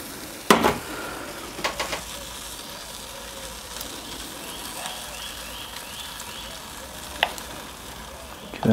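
Cheese being stirred into a beer cheese sauce on a Kamado Joe grill makes a soft bubbling sizzle, with a few distinct scrapes and clanks of a utensil against the pan.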